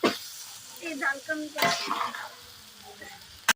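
Soyabean fried rice is stirred in a pan with a spatula, giving scraping strokes over a soft sizzle. There are sharp knocks at the start and end, and a voice is faintly present in the background.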